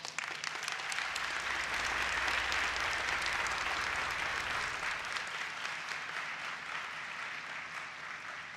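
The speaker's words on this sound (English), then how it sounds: "Let's give them a round of applause." An audience applauds honorees at a student academic excellence awards ceremony, producing a dense, sustained burst of clapping from a sizable crowd that carries on for several seconds and slowly thins toward the end, with no talk over it.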